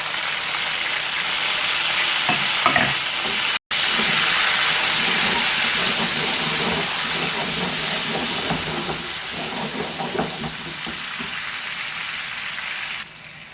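Tomatoes hit hot oil already sizzling with cumin and fenugreek seeds in a pan for mixed vegetables, giving a loud, continuous frying hiss that barely pauses once and carries on close and steady without talk.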